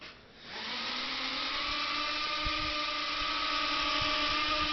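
A Blade Inductrix micro drone hovers steadily close by, its tiny rotors producing a constant high-pitched whine that rises quickly at the start and then holds even and loud throughout.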